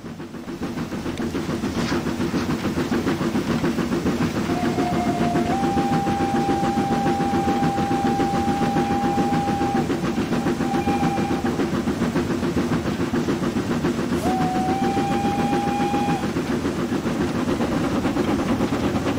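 An LMS Stanier Mogul steam locomotive in Train Simulator 2020 chuffs and hisses steadily, with two drawn-out whistle blasts rising above the constant engine noise.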